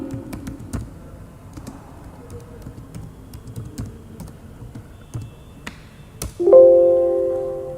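Someone types a customer name into accounting software on a computer keyboard, with quick, uneven key taps up close, ending in a louder key press and a ringing chime from the program.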